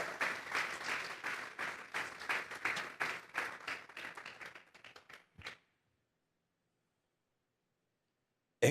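Church congregation clapping together as an offering of praise to God, a dense burst of hand claps that thins and stops after about five seconds, then silence.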